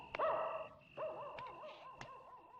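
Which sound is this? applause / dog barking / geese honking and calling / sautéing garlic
dog barking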